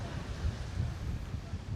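Strong wind on Bantayan Island, Cebu, buffets the microphone in low, uneven gusts, a continuous rumbling rush with no voices.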